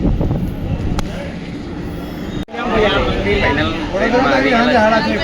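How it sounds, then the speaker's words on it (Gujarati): Passenger train on a pilgrimage journey to Ramdevra (Runicha) in Rajasthan getting underway, a steady rumble that jumps louder midway as it gathers motion, with a crowded carriage and people talking over it. "ટ્રેનનો સફર ચાલુ થઈ રહ્યો છે"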